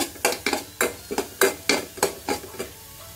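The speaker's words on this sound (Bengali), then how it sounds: "দিয়ে দিচ্ছি পাঁচফোড়নটা" Panch phoron spices with chilies fry in a pan while a utensil stirs them, producing about a dozen sharp, close scraping strokes at a quick, uneven rhythm over a faint sizzle, with no talking.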